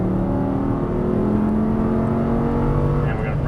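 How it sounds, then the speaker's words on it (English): An Audi R8 roars on a race track under hard throttle, a loud continuous engine drone holding steady pitch from inside the car, with road and wind noise mixed in. "And squeezing hard on the throttle"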